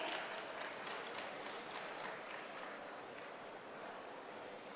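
Steady, dense applause from a large crowd at an outdoor rally ground, heard from a distance, sustained and even with no pauses.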